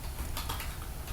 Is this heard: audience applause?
no